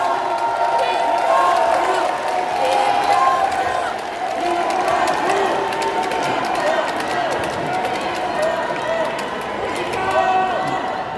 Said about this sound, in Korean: 박수와 함성으로 맞아주십시오.